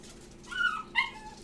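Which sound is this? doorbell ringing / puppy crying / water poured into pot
puppy crying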